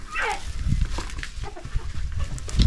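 Hens on a farm cluck and squawk close by in a busy, irregular chorus with scattered calls throughout.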